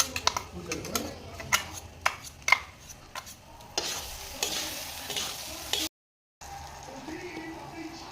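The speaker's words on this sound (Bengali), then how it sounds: "ভালোভাবে চালটাকে ভেজে নিব।" Rice fries in a pan for pulao: a spatula scrapes and taps against the pan in sharp strokes, then a hissing sizzle takes over with a brief cut in the sound, all close and fairly loud.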